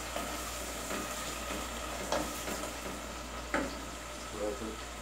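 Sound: tomatoes sizzling as they fry in a pan

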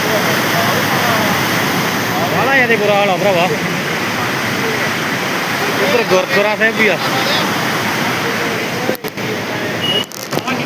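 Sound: rushing flood water

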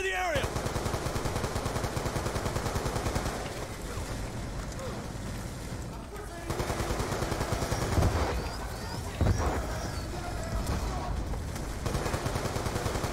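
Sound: automatic gun turret fire in video game Call of Duty Black Ops 2

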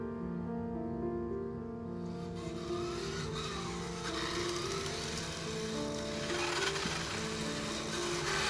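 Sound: race car engine revving in Heavy Rain video game

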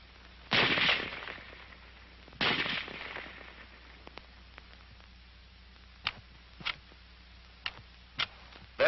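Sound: M1 Garand rifle firing until the magazine is empty

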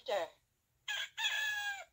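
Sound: rooster crowing

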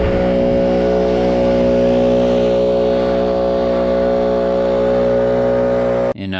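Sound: Stihl BR800X backpack leaf blower blowing pine straw

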